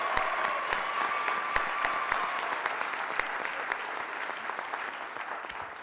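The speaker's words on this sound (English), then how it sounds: "So give them a huge round of applause." Sustained audience applause fills a conference hall at a youth congress, a dense, loud wash of clapping that fades slightly toward the end, with no talking.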